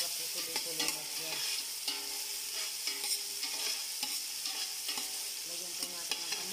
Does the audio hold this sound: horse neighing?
no